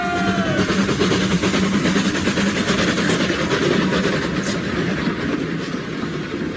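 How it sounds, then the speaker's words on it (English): A goods train rumbles past close by in a radio drama, with a steady, loud roar and rhythmic clatter of wagons on the rails, continuous throughout with a faint hiss on top. "Hold on. That's a goods train."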